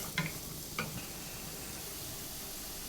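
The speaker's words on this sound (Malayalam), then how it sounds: "ഈ മത്തങ്ങയൊക്കെ ഒന്ന് വഴണ്ട് വരട്ടെ." Pumpkin pieces sauté in ghee in a pan, giving a soft, faint sizzle with two brief early scraping stirs, then a low steady hiss.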